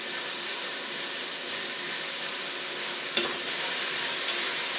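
Onions frying in a pan as the base for French cheese soup, a constant close hiss and crackle with one brief clink of a utensil partway through, no talk.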